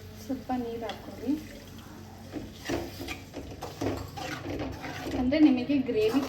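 Water poured into a pan of paneer curry seasoned with garam masala, with light splashing and clinks of a spoon and pan under a voice speaking throughout.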